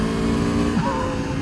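A 2018 Aprilia Tuono 1100 Factory motorcycle engine hums at a steady idle close by, with a brief upward blip of revs partway through the short burst.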